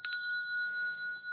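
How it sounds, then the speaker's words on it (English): A bell is struck once, close and clear, its bright ringing tone lingering and slowly fading with no other sound around it. "The bell sound wide resounds"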